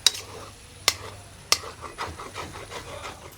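Food being stirred in a pan for a spicy, pepper-seasoned dish cooked down until dry and dark: low scraping and rubbing of a spoon across the pan bottom, with a few sharp clinks of utensil on metal near the start, close and fairly quiet.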